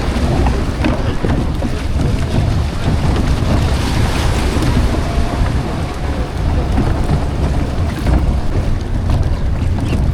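Rough choppy sea off Boracay on a cloudy day, heard from aboard a moving boat: a steady loud wash of waves and water rushing against the hull, with constant wind roar and no clear voices.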